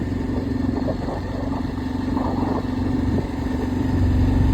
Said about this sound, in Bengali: এই তো বাইক করে যাচ্ছি বেশি দূরে নয়